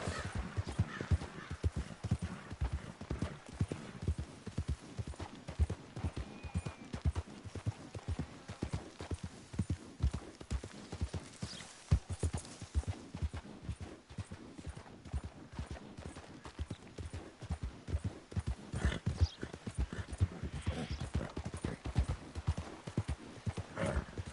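Horse hooves clip-clop in a steady, even rhythm throughout in Red Dead Redemption 2, soft and continuous, with a brief whinny-like sound mixed in.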